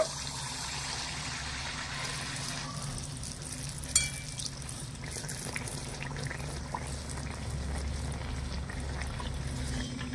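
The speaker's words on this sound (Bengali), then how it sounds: "গরম তেলে কিন্তু পিঠেগুলো ভাজতে হবে" Pitha dumplings coated in batter fry in hot oil with a steady, close bubbling hiss that holds throughout, with one brief clink partway through.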